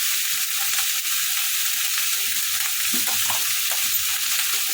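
Chopped vegetables fry in a pan with a steady, close sizzling hiss that stays even from start to finish, with faint stirring scrapes and no one talking.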